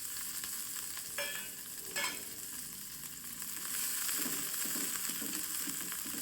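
Spring onion greens fry in a little oil, giving a steady moderate hiss with a couple of brief louder crackles early on and a slightly fuller sizzle toward the end.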